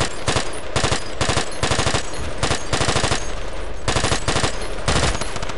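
An M240 machine gun firing in Battlefield 2, loud close bursts of rapid shots separated by short pauses, repeating through the stretch with no voices.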